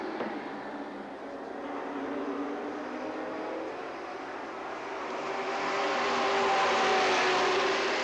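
Race trucks lap the oval at Madison International Speedway in Oregon, Wisconsin, producing a continuous engine drone that builds gradually as the pack draws nearer and louder toward the end.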